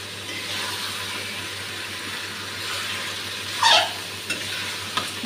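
Masala for mutton curry frying in a pan, a steady close sizzle with a few scraping stirs and brief sharp clinks of a spoon toward the end, no one speaking.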